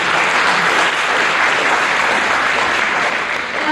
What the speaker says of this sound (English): Can I just have one quick round of applause for this stellar